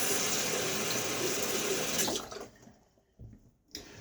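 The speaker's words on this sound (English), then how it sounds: "And now another rinse." Running water from a tap rinsing during a wet shave, a steady close splashing stream that cuts off partway through, followed by a few faint drips and clanks.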